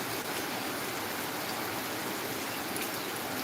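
Light rain falls in cloudy weather as a steady, soft, even hiss of drops, close by and unbroken, with no voices.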